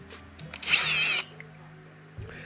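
A power drill with a 3/4 drill bit bores a hole in an Arrma Felony 6S RC car body, giving one loud high-pitched whine of about half a second, close up, with quieter handling noise before and after.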